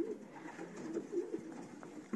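Young pigeons coo softly inside a pigeon loft, a low steady murmur of repeated coos close by and fairly faint, with light rustling in the background.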